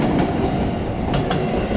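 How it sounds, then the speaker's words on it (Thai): Loud, close rumble of a local train rolling past near Fujikyu station in Japan, with rhythmic clacking of wheels over the rails. "เป็นรถไฟโลคอลของที่นี่"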